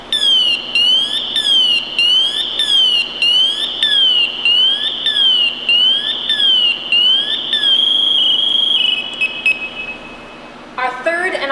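A Scott Air Pack SCBA alarm sounds in full alert mode, a loud shrill electronic tone warbling up and down in a fast repeating cycle, then shifting into rapid chirps and beeps before a reset, close and dominant.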